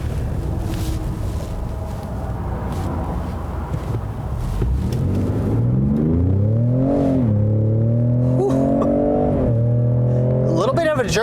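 A 2019 Ford F-150 Raptor pickup, left in two-wheel drive, accelerating hard from a start: a low engine roar climbs steeply in pitch, drops at a gear shift and climbs again, loud and close inside the cab with wind rumble.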